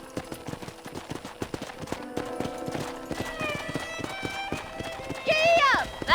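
Rapid hoofbeats of a galloping horse pound under game music in Red Dead Redemption, ending in a loud whinny near the close.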